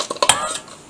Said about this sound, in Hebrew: עכשיו אני שוברת ביצה אחת